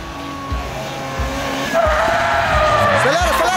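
A Nissan 350Z drifts with a loud, rising tire squeal over a revving engine that pulses in rhythmic surges, close and intense, while people can be heard under the noise.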